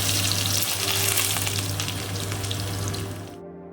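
Loud, steady sizzling of garlic and nigella seeds frying in plenty of hot oil, a dense hiss close up that runs continuously before cutting off abruptly near the end.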